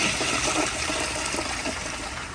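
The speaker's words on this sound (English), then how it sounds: "But now I'll give you all more of a close-up flush." A 1974 Crane Santon toilet flushes up close, a loud steady rush of gushing water that fills the whole stretch and barely eases toward the end.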